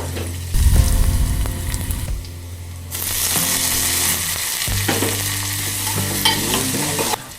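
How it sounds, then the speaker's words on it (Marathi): Onion and tomato fry in a pot of hot oil with garlic, cumin and mustard seeds, a steady close sizzle punctuated by scraping stirs and clinks of a spoon against the metal pot. "आता आपण तेल टाकलं टोपामध्ये, लसूण, जिरं, मोहरी प्लस त्याच्यामध्ये कांदा, टोमॅटो वगैरे टाकले"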